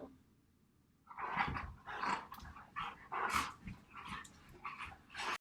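Dogs playing indoors, heard as a run of barks, yips and growls that starts about a second in and keeps going in close, fairly loud bursts until the end.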